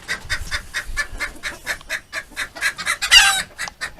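A blue-headed turkey gobbling and strutting on a homestead, a rapid series of about a dozen throaty, evenly spaced pulses close by, ending in a louder, rattling burst near the end.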